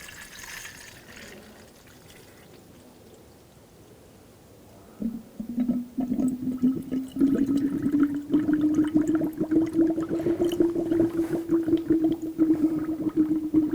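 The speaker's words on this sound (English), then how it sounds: "And you want to add the appropriate coolant." Coolant mixed half and half with water pours into the coolant reservoir of a 2009-2017 Volkswagen Tiguan 2.0L, a quiet stretch giving way to a close, steady glugging trickle that rises in pitch as the reservoir fills, with no talk.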